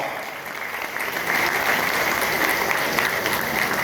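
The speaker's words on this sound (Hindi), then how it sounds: "जोरदार तालियां, जितनी जोरदार तालियां अपने आराध्य के लिए बचा करके बजाइए" Audience at a direct selling and network marketing event applauds loudly, a thick wall of clapping that swells after the first second and stays strong and sustained throughout.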